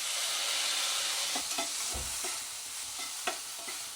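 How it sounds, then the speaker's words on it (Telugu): Onions and tomato pieces sizzle in a pan while a utensil stirs them, a loud continuous frying hiss broken by a few soft scraping strokes and taps, close by and with no voices. "ఆనియన్స్ లైట్గా ఫ్రై అయ్యాయి కదా ఇప్పుడే మనం ఈ టమాటా ముక్కలు కూడా వేసుకోవాలి"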